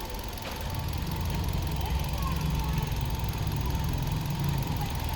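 A 2018 Hyundai i20 Active SX petrol engine idles just after starting, a steady low rumbling hum with an even mechanical drone, close and continuous, no speech.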